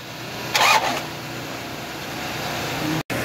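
Diesel engine of a Chevrolet NKR (Isuzu) truck briefly cranked to break loose the crankshaft bolt, a short loud burst near the start and then a steady idle-like drone, ending in a sudden cut.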